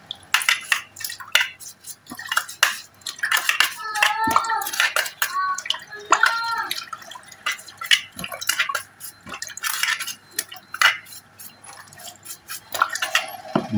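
Engine parts from a Yamaha Soul GT 125 motorcycle, including the magneto, being washed with water and soap: steady splashing, dripping and handling noises up close, with a voice briefly audible in the background.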